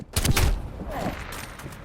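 Death Machine minigun firing in Call of Duty: Black Ops Cold War, a short dense burst of rapid gunfire up front, trailing into a fainter rattle.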